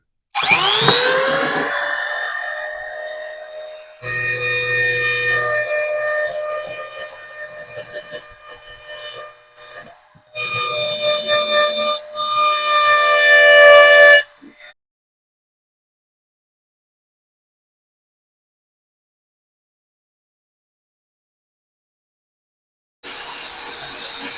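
A Dremel rotary tool polishes a rusty railroad spike being made into a push dagger, a high whining grind in several bursts of a few seconds each, with pitch shifting under load, then a long silence before it starts again briefly.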